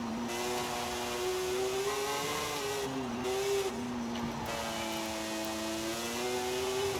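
A sports car engine in a Forza racing video game drones and revs up and down in steady waves, with a whirring, slightly muffled tone and no talking.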